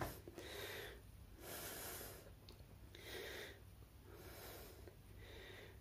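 Heavy, rhythmic breathing after a set of push-ups: loud, breathy exhales and gasps come in regular pulses about every second and a half, close to the microphone, with no talking.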